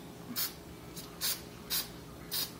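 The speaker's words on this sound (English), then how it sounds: "And then I just start spraying small squirts" A hand spray bottle gives four short, separate hissing squirts onto small accessories, one being a blinged bow, each a soft, brief puff over a quiet room, with no talking.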